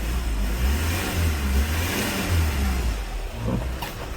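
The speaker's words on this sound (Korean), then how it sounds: "그 다음 엔진 소리도 너무너무 조용합니다" A 2016 Hyundai Porter 2 Super Cab wing-body truck with an automatic transmission runs its Euro 5 diesel engine, giving a steady, low, pulsing rumble with mild swells, close and continuous, with no speech.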